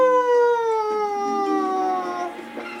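A person imitates a wolf-like howl with the voice, a single long wavering tone that slides slowly downward over about two seconds, loud and close, alone.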